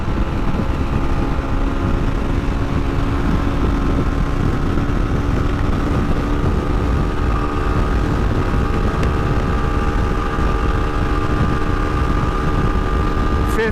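An FB Mondial HPS 300 motorcycle runs under throttle at around 100 km/h, its engine a loud, steady droning hum mixed with rushing wind throughout.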